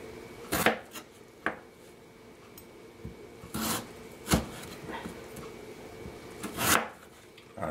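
Knife cutting vegetables into wedges for roasting on a kitchen board, a handful of separate sharp chops and clacks spaced a second or so apart, with softer rubbing and handling noises between them.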